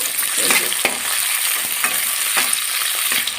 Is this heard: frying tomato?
yes